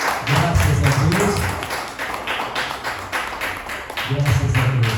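A church congregation claps and applauds, with dense clapping sustained throughout and a low hum of voices and music underneath, swelling at the start and end.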